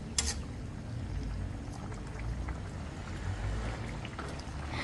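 Water poured into a vegetarian Thai green curry, a faint steady liquid trickle and gentle bubbling running throughout with a brief clatter at the start.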